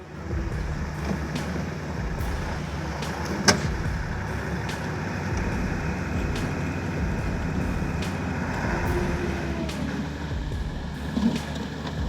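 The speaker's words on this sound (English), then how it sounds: "Watching the Ural charge through the ice-cold river is absolutely insane." Ural truck charging through an ice-cold river, a steady loud engine roar with churning water noise throughout, plus a brief knock midway and a faint clunk near the end.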